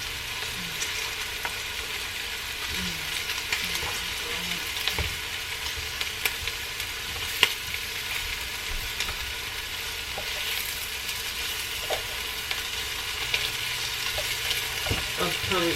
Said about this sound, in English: Alright, so the shrimp are looking good. I'm going to go ahead and flip those over.